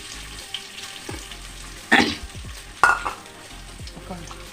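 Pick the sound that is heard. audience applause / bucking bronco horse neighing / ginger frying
ginger frying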